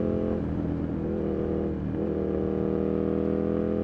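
An Aprilia RSV 1000 R Factory sport bike's engine drones steadily while riding and leaning through corners, with a brief dip in pitch near the middle before the tone climbs and holds again, close and continuous.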